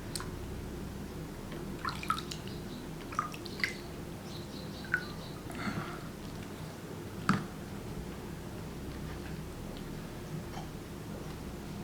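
Water dripping during face washing at home, a handful of sparse, irregular drips and small splashes over a faint steady background, close by and fairly quiet, with no voices.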